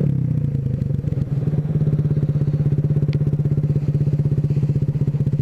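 A 2014 Honda Grom motorcycle rides and slows to pull up, its small single-cylinder engine a loud, steady, close putter with rapid even firing pulses and no talk over it.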